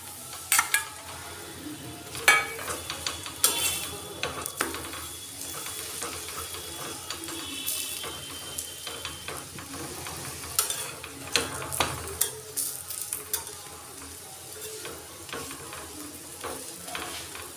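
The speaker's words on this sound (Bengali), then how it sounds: "আমি পরোটাগুলো ভেজে নেব এইভাবে। আমি তেল দিয়ে ভেজে নেব।" A cabbage paratha fries in oil in a pan with a continuous crackling sizzle, punctuated by occasional scraping and tapping of a spatula.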